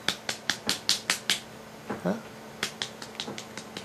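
A small child claps hands in quick sharp bursts, one group of about seven claps, a pause, then another run, close and fairly faint, while an adult voice speaks briefly.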